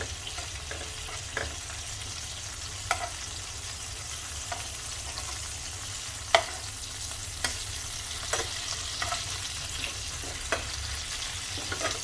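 Green tomatoes sizzle steadily in a hot pan, with occasional soft clinks and scrapes of a utensil stirring or turning them.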